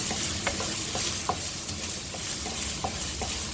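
Crushed spice masala sautéing and stirred in a pan for Kerala-style pork pepper roast, a steady sizzle with soft scraping strokes at an irregular rhythm, close and continuous.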